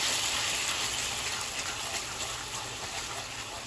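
Broth poured into a bowl while making Chinese beef noodle soup, a steady close liquid gush and splash running for a few seconds with no talk.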